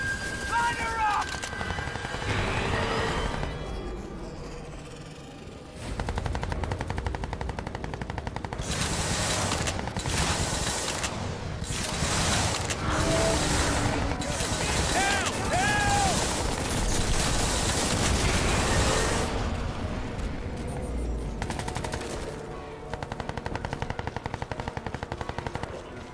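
In the video game Crysis 2 Remastered, sustained machine-gun bursts and heavy gunfire rattle through a battle with a gunship, dense and loud for long stretches, with a helicopter-like drone and shouted voices mixed in.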